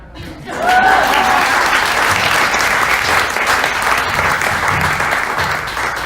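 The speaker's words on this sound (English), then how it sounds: "Let's give her a round of applause." Loud, sustained applause from a community meeting audience starts suddenly after a brief quiet moment and continues steadily, with scattered whoops riding on top of the dense clapping.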